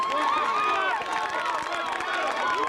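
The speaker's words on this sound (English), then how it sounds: "The crowd's getting into it" A crowd cheers and roars steadily at a high school lacrosse game between Jamesville-DeWitt and Skaneatles, with a commentator talking over the noise throughout.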